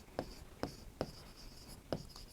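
Pen strokes scratch across paper while a room's area solution for a class 8 maths problem on walls and ceiling is written out, four short close strokes at an uneven pace with no talk.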